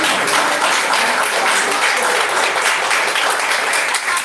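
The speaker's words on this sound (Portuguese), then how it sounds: "Vamos aplaudir a palavra de Deus" A church congregation applauds loud and steady for several seconds during a sermon, a dense wall of hand claps without pause.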